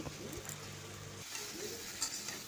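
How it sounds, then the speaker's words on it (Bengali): Large diced onions stirred into frying vegetables in a pan for a mixed vegetable and bata fish chorchori, a quiet sizzle with soft scraping spoon strokes close by. "বেশ কিছুক্ষণ নাড়াচাড়া করার পর আমি কেটে রাখা পেঁয়াজগুলো আমি দিয়ে দিলাম"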